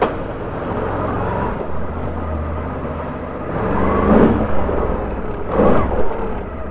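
A Can-Am Renegade XC 1000 ATV that sat unused for seven months idles close by, then its engine is revved twice in sharp swells a second or so apart before settling back to idle.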